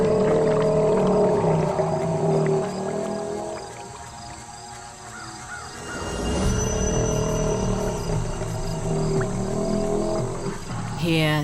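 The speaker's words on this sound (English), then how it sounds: "A prehistoric sound signals a male alligator's claim to mate." A male alligator's deep, rumbling bellow rolls out at length in a swamp, low and powerful, fading briefly midway before swelling again, with a faint insect-like hiss in the background.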